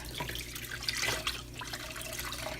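Wet knitted wool mittens are lifted out of a basin of washing water, giving close sloshing, splashing and dripping sounds over a steady watery background, with no speech.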